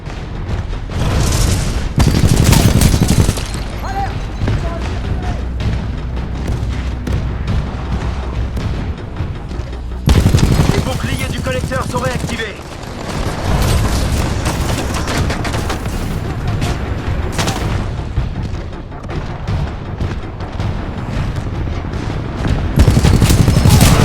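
Titanfall 2 battle gunfire: continuous dense fusillades of rapid automatic fire mixed with booming explosions, loud and sustained throughout, with no talk.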